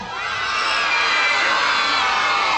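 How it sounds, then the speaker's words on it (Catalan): A crowd of children lets out one long, loud, sustained shout together, cheering and whooping at full volume throughout. "Un crit ben llarg i ben fort!"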